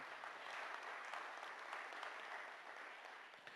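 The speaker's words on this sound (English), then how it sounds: "Let's give them a round of applause." Steady, dense applause from an audience at a community hearing in Hobbema, Alberta, heard fairly faintly and evenly throughout with no talk over it, easing off slightly toward the end.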